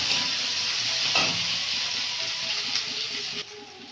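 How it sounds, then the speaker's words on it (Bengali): Loud, steady sizzling of onion and garlic frying in hot oil, with a brief stirring scrape partway through. "রসুন আর পেঁয়াজটা ভালো করে ভাজা ভাজা করে নেব।"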